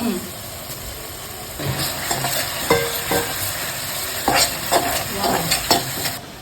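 Chicken 65 is stirred as it fries in a pan, with a steady close sizzle and clacks of a spoon scraping the pan at uneven intervals, plus a faint low hum underneath.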